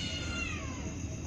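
A pregnant house cat gives a short, faint meow once against a steady background hum, with no talking.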